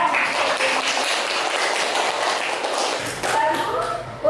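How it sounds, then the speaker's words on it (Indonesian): Classroom applause during a teaching session, a dense burst of many hands clapping close by for about three seconds, then thinning into scattered claps and shuffling, with a voice under it. "Tepuk tangan ya."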